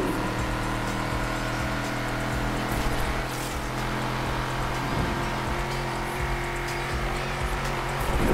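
Race cars roar through a street race in Need for Speed Unbound, engines droning loud and steady with tires squealing and skidding as cars pass, the whole mix dense and continuous throughout.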